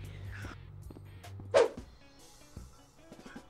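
A single dog bark in the video game Rec Room, short and fairly close, standing out over quiet game sounds and faint background noise.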